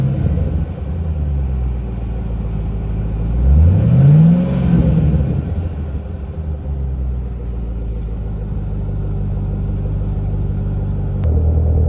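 A supercharged 2012 Camaro ZL1 engine idles with a deep rumble, then gets a single sharp throttle blip that rises and falls around four seconds before settling back to a steady close idle, with no talking.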